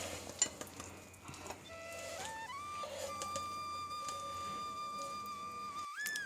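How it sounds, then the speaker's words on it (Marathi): A peanut chikki mixture is stirred in a pan, with soft scraping and occasional light clinks of the spoon against metal under steady background music. "आणि असं हलवत राहायचं"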